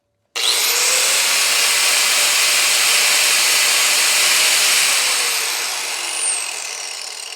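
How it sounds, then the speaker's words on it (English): DeWalt right angle grinder powered by a portable power station, spinning up abruptly to a loud steady high-pitched whine that holds for several seconds and then eases slightly. "I brought out just a standard DeWalt grinder, right angle grinder"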